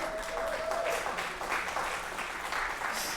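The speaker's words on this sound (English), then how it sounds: "Give a clap out to her." Audience at a film screening event clapping for a guest, a steady wash of applause at even volume for the full few seconds.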